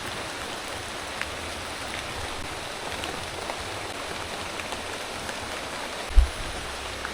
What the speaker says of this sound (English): Sorry, it's raining, so I need to clean the lens.